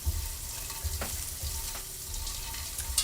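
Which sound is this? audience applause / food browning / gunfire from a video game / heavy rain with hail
food browning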